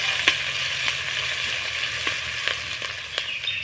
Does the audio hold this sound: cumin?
yes